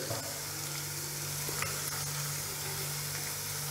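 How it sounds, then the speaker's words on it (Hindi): Roughly chopped garlic sautés in oil in a pan with a steady, soft sizzle and a few light stirring clicks, alone and fairly quiet. "गार्लिक को थोड़ा सौते करना है, जैसे इसका गोल्डन ब्राउन कलर आएगा तब तक सौते करना है"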